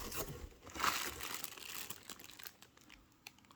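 Plastic and cardboard packaging crinkles and rustles from a Bissell Little Green Proheat carpet cleaner being unboxed, close and fairly quiet, with a burst of crumpling early on and softer handling noises and small taps trailing off.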